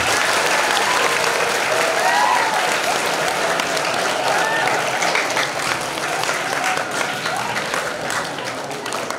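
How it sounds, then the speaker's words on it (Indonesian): Sustained audience applause fills a room during a Ramadan Quran-completion gathering, a dense, steady wash of many hands clapping that holds loud throughout and fades only slightly at the end. "Boleh kasih tepuk tangan."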